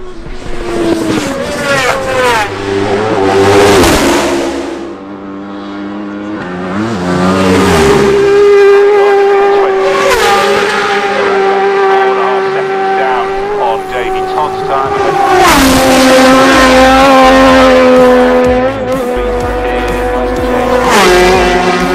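Racing motorcycles scream past at the Isle of Man TT, engines howling at about 14,000 rpm in repeated rising and falling pitch sweeps as bikes approach and pass, very loud throughout.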